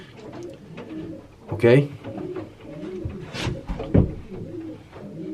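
Racing pigeons coo softly and repeatedly nearby while someone talks over them, the low throaty calls rising through and between his speech.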